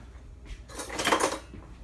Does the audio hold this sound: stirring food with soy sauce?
yes